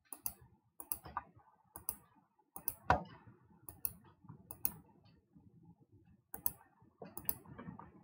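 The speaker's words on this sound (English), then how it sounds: "I can connect it to the resistance by left clicking" Computer mouse clicks while a circuit is wired in LTspice simulation software: a series of crisp, close clicks, often in quick pairs, spaced irregularly through a quiet room.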